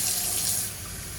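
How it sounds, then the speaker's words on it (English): A camper RV faucet opened during winterizing, running water in a steady loud rush that eases slightly toward the end. "you just open up the faucet and wait for pink to come out"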